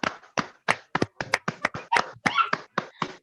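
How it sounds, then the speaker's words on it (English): Children applaud at a school month-end prize giving, with about a dozen distinct, sharp claps in an uneven rhythm, fairly close and alone without talk. "Please give a huge round of applause to Miss Salvi Kesar."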